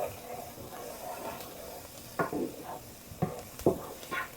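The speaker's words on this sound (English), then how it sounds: "Stir till melted." Butter melting in a hot pan with onions and green pepper, stirred with a utensil that makes several distinct scraping strokes over a low, quiet sizzle.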